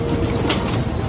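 A flock of pigeons bursts into flight inside an office, a loud, dense flurry of flapping wings filling a brief moment with no voices.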